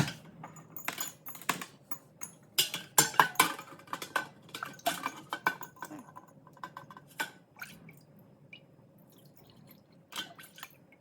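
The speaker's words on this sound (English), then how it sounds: "let me see if I can find a soup ladle to dish up some of this" A soup ladle clinks and clatters against a pot while homemade root beer is dished up, with a run of irregular close metallic taps and knocks, busier in the middle and thinning out toward the end.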